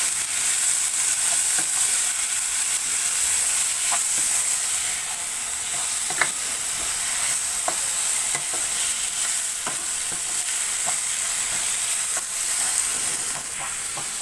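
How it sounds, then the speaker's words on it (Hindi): Chopped tomatoes and coriander stirred into sizzling mixed vegetables of cauliflower, beans, potato and capsicum, a steady hiss of frying broken by repeated clicks of a spoon against the pan, with no voices. "और अभी इसे अच्छी तरह से स्टर करके मिक्स कर लेंगे।"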